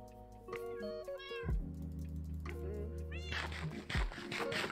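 A blocky Minecraft cat meows a few times in close, clear succession, its rising and falling calls sitting over a bed of steady game music with no talking.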